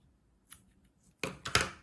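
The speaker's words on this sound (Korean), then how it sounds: "여기 잘라주세요" Scissors snip through crochet yarn on a small four-leaf clover keychain piece, a faint early click followed by two louder close cuts near the end.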